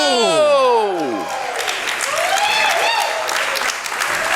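A crowd applauds in a wrestling video game, loud sustained clapping and cheering mixed with a descending whooshing effect, while a commentator's voice talks over it.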